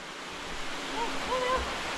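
The third cascade, the Cascade de l'Amour on a mountain hike, gives off a steady, broad rush of falling water into a pool. It is loud and unbroken, with a few faint tonal sounds above it.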